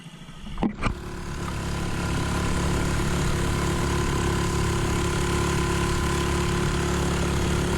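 A couple of sharp knocks, then a small boat outboard motor with a new carburetor hums steadily at a constant idle on a river, droning evenly and fairly close with no voices.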